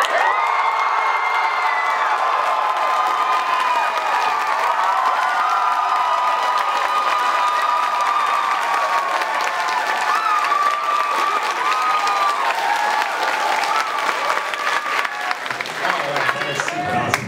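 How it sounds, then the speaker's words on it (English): A convention panel audience cheers, screams and whoops at full volume, a sustained roar of many voices with some clapping mixed in that carries on for many seconds. "Yeah, cheer as loud as possible."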